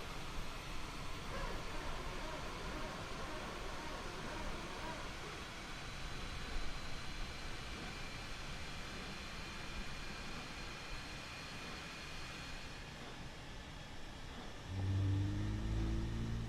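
Air France airliner on the ground at Pointe-à-Pitre, its number 2 engine starting: a steady broadband roar and rumble fills the cabin throughout, with a low growl swelling near the end.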